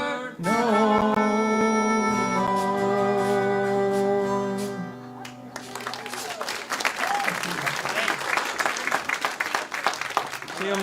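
An audience claps loudly and steadily after a sing-along folk song, a dense burst of applause filling the second half after a held sung or played note fades.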